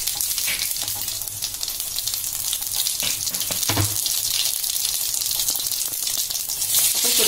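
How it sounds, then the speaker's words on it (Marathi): Cumin seeds hit hot oil in a kadhai, sizzling and crackling as a steady bright hiss that runs throughout with no talk over it. "आपण त्यात पहिल्यांदा जिरं घालून घेतो"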